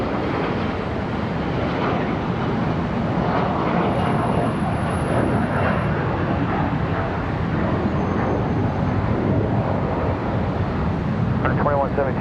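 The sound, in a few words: ERJ 145 jet departing Charlotte airport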